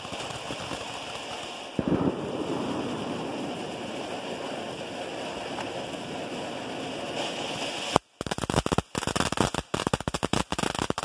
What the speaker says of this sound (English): this is the last firework, and we're gonna be done